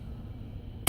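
A Sig 229R pistol in .40 S&W gives a single short, sharp trigger-reset click up close near the end, after a stretch of near silence.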